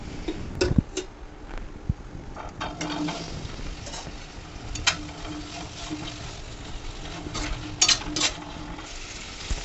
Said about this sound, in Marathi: आता याच पॅनमध्ये आपण हे सर्व बटाटे परतून घेणार आहोत